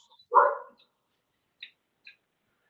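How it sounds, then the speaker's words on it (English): Dogs barking outside an open window, one clear bark up front followed by two faint distant yips, separated by silence. "I don't know if you can hear them barking."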